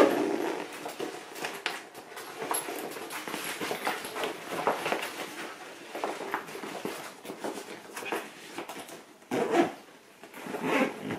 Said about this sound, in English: you can see you just easily zip it up.